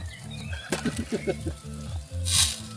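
Sausages sizzle on an outdoor barbecue grill on a sunny Easter Sunday, a close, continuous frying hiss with brief bird-like chirps and a sharp hissing flare near the end.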